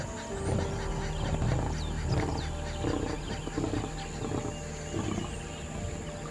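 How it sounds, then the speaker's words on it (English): Deep, throaty grunting roars from an adult male lion on the Serengeti savannah come in a rough, uneven series, fairly close and loud against open outdoor ambience. "the thunderous roar of an adult male lion echoes through the air"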